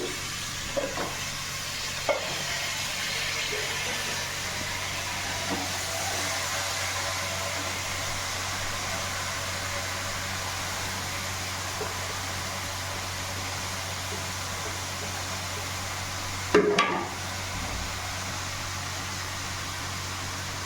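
Cabbage fries in a pan for a senagapappu curry, giving a steady hiss and sizzle with occasional scrapes and clanks of stirring, one louder clatter near the end.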